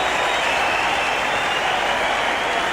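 Cricket crowd applauding at the Sydney Cricket Ground during a 1990 Australia versus Pakistan match, a dense, steady wash of clapping from many people in a large stadium, with no voices.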